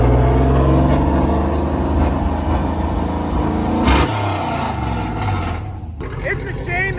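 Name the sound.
ramp truck engine revving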